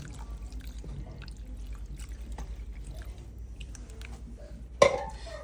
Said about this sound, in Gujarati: પાણી રેડું છું.